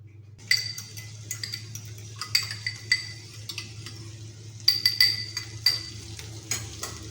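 Cheese frying in a pan at home, with a soft continuous sizzle underneath and repeated sharp clinks and scrapes of a utensil against the pan and dishes, close by and fairly quiet.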